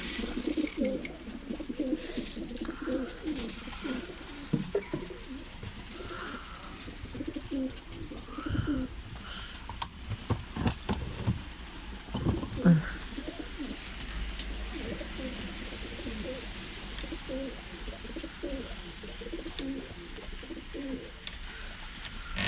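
Pigeons coo and flutter while being fed on a snowy balcony in Ankara, their soft repeated cooing and calls mixed with light chirps over a quiet outdoor hush, with no talking.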